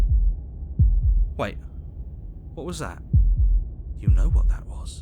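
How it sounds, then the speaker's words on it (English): Paired heartbeat thumps from the video game Slay the Princess, deep and close, recurring in an uneven double rhythm while a voice speaks over them. "That was the sound of a heartbeat"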